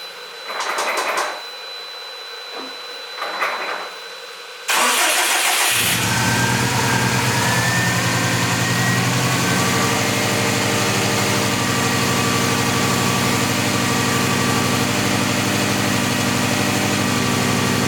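A Subaru STI, just out of winter storage, cranks briefly a couple of times before catching, then settles into a loud, steady idle close by, alone without talk.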